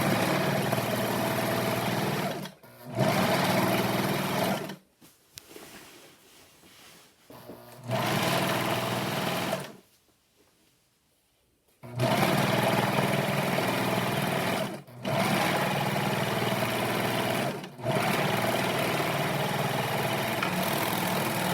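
A serger stitches a seam on an isolation gown in loud, steady bursts of rapid whirring, stopping and restarting several times with short pauses and one longer silence between runs.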